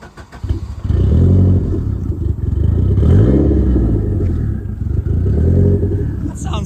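A Saab 900 Turbo car starts moving off, its engine rising into a loud, close, rough drone with a couple of revving swells, heard from inside the car.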